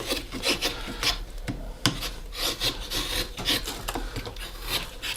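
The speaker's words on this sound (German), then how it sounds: "hier muss ich jetzt doch in die andere Richtung schnitzen" A knife carving a wooden wing, close rasping scrapes and rubbing strokes against the grain, repeated in an uneven rhythm with one sharper snick partway through.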